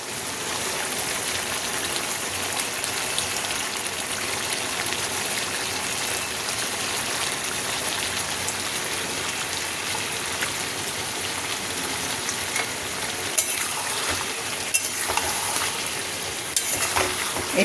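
Prawns frying in a pan of masala with a little water, giving a steady, dense sizzle that runs loud and continuous throughout, with a few brief sharper clicks near the end.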